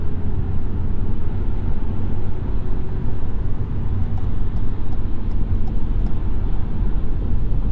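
Steady, loud road and engine drone inside a 2022 Ford Maverick hybrid with a CVT on the highway, continuous without a break, with no voices.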